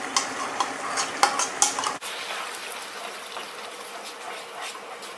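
Yogurt, salt and crushed chili are scraped and stirred in a pot of frying base for peas pulao, with a few sharp utensil clinks early on, then a steady close sizzle and hiss; no talking.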